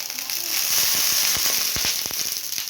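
A green moong dosa sizzles loudly in ghee on a pan, a dense hiss broken by sharp crackling pops that cluster near the middle, heard close with no voices.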